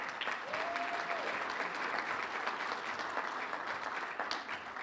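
Steady, dense applause from a seated audience at a chamber of commerce awards gala, a continuous crackle of many hands clapping at moderate distance throughout.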